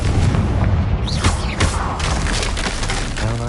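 A Confringo spell blast goes off in a Harry Potter video game, a loud, full booming explosion with a rumbling, crackling tail that fills the whole moment.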